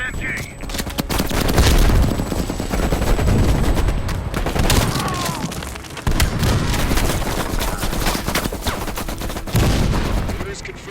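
Sustained machine gun fire in the Call of Duty Black Ops Cold War video game, dense overlapping bursts and booms running loud throughout amid battle noise, with voices talking over it.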